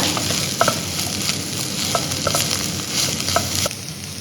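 Clam meat fries with garam masala in a pan, crackling and sizzling steadily while a utensil stirs and scrapes with a few sharp knocks, close up and without talk.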